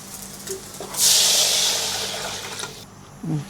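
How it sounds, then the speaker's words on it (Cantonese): A brief rush of chicken broth pours into a pot for about two seconds, close and hissing, then stops with a faint clunk. "倒雞水。"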